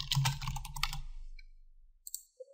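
Quick burst of computer keyboard typing, close and fairly quiet, a rapid run of key clicks that fades out, followed by a couple of isolated light clicks.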